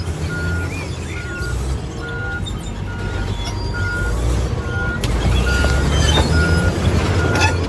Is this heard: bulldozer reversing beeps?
yes